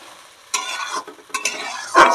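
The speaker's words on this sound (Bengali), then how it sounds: "মশলাটা এবার আমি এইভাবে সুন্দর করে কষিয়ে নেব।" Spice masala is stirred and fried with fried potatoes for a mutton-fat ghugni, in bursts of scraping and sizzling separated by brief quiet gaps, close and fairly loud, without speech.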